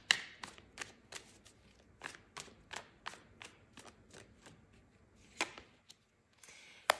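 Tarot cards being shuffled and drawn, a run of quick close riffling snaps and flicks in an irregular rhythm with brief pauses, fairly faint and without talking.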